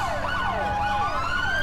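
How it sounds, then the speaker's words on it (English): A police car siren in the GTA IV LCPDFR mod on a Met Police BMW E61 in snow, wailing loudly and continuously up and down in rapid sweeps, with engine noise underneath. "Let's turn the siren off."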